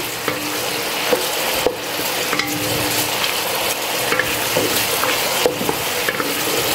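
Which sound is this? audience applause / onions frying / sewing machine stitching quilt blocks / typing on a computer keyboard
onions frying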